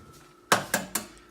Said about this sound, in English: So I'm gonna crack 3 eggs.